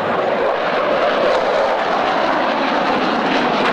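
Su-30 fighter jet of the Vietnam People's Air Force flying at an air show over Hanoi, a loud sustained engine roar that holds steady throughout with no voices.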